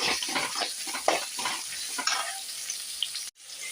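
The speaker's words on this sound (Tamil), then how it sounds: "தேவையான அளவுக்கு வெங்காயம் சேர்த்துப்போம். வெங்காயம் நல்லா வதங்கட்டும்." Onions sautéing in a pan while preparing mutton fry, a steady close sizzle with scraping stirs throughout, ending in a sudden brief cutoff.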